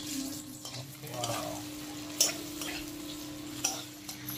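Oil frying in a pan while crab curry is cooked, a soft steady sizzle with a couple of sharp utensil clinks and light stirring.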